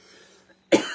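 A single short cough bursts out near the end, following a faint hum and brief quiet.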